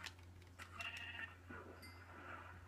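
Sheep bleating in the Minecraft video game, faint wavering bleats over a low steady hum, quiet and somewhat distant.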